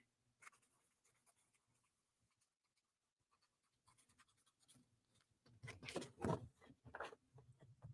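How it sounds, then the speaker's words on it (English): A pen scribbles on paper, faint scratching at first, then louder quick back-and-forth strokes close by in a quiet room. "Scribble writing."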